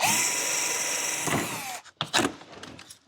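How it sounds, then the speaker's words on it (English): A power drill whines at high speed, grinding steadily as it drills out rivets, then stops; a few metallic clinks and taps follow. "Drilling rivets is so satisfying"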